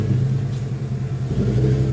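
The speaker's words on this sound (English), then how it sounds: "The garbage truck, it is coming!" Low, steady engine rumble of a garbage truck drawing near, a droning hum that swells slightly toward the end, heard alone without talk.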